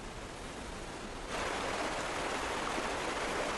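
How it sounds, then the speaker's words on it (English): A river's whitewater torrent roars constantly, a dense unbroken rushing wash that swells noticeably louder partway through and then holds steady, with no voices. "torrent ducklings are accustomed to the constant roar of whitewater"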